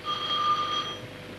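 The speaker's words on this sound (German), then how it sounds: "Das ist der Telefon da." An old telephone bell rings in a 1930s comedy film, a brief burst of steady ringing tones heard fairly faintly over a hissy old soundtrack, with no talking.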